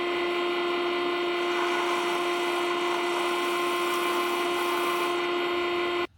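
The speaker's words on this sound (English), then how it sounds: "A little sanding thing on the rotary tool." A rotary tool with a small sanding attachment whines steadily while sanding a wooden frog-shaped diving lure for Australian bass. The high motor tone holds evenly and loud and close for about six seconds, then cuts off abruptly.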